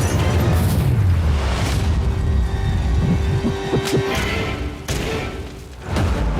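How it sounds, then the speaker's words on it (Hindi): Firecrackers going off in a series of deep booms and thuds, loud and close, with a low rumbling throb between the blasts. "पटाखे फूटने वाले हैं।"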